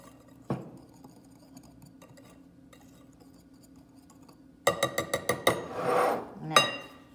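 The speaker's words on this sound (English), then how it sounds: "Then I just take my little whisk that around to combine it." A small whisk clinks and scrapes quickly against a bowl while dry ingredients for pecan pie muffins are mixed. It comes as a close, busy cluster of metallic ticks after a quiet stretch with a single earlier knock.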